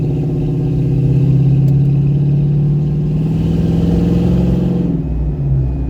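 1993 Chevy Blazer with a Flowmaster exhaust driving along a road, a loud, deep engine rumble whose pitch climbs slightly then settles, with a faint whine up front that may come from the alternator, alone with no talking.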